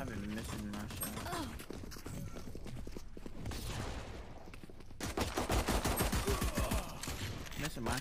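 Rapid gunshots and bursts of automatic fire in a tactical shooter video game, dense and continuous with a heavier volley near the end, beneath game sounds.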